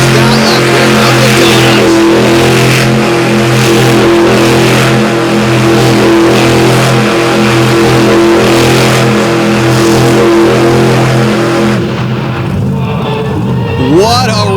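A monster truck at an outlaw drag event roars loudly as its engine revs hard and steady while doing donuts, the heavy drone holding throughout before the pitch swings and wavers near the end.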